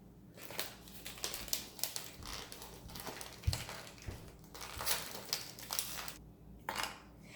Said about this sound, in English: Can you open the cookies?